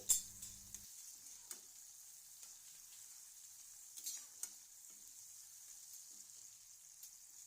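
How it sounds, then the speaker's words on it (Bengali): Finely chopped tomato fries in a little oil in a pan, giving a faint, steady sizzling hiss with a few small pops and taps of stirring scattered through, quiet and close. "এখন তেলের মধ্যে আমি সামান্য একটু টমেটো কুচি দিয়ে দিচ্ছি।"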